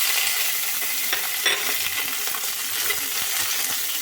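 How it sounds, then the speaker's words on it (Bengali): Chopped capsicum sizzles in hot oil in a wok, a loud, continuous crackling hiss close up with occasional clinks and scrapes of stirring. "কড়াইয়ের তেল গরম হয়ে গেছে এবারে আমি এই কেটে রাখা ক্যাপসিকামটা দিয়ে দিচ্ছি"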